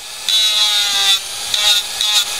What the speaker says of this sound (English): the weight of it's actually bogging the motor of the Dremel down